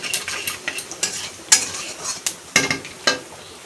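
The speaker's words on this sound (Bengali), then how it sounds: "এখন ওই তেলে আমি জিরে দিয়ে দেবো" Cumin seeds go into hot oil left from frying potatoes, giving a crackling sizzle broken by sharp utensil clinks and scrapes against the pan at irregular intervals.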